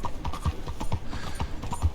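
Hooves of a horse pulling a wagon clip-clop in a video game, a brisk, even trot of close, distinct hoofbeats heard alone.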